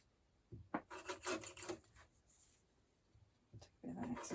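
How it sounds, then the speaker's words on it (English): Scissors trim excess corners off curtain fabric in short rasping snips and cuts that come in bursts at close range, with quiet pauses between them. "let's just trim off these corners, excess, just to turn them in a bit easier."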